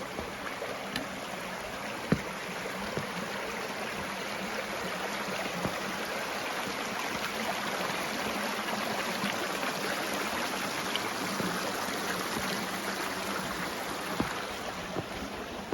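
A creek on the Appalachian Trail rushes steadily, a dense broadband wash of flowing water that stays close and even throughout, with no voices.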